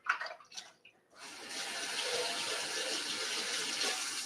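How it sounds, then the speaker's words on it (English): A few soft clinks and handling noises give way to steady running water as hands are washed in soapy water at a kitchen sink, a continuous close splash. "I've got soapy water in my sink that I can wash my hands off real quick."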